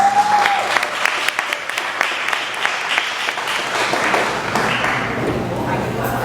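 An audience applauds at a motivational speaking event, moderately loud clapping with individual claps audible, rising briefly and continuing steadily while a person talks over it.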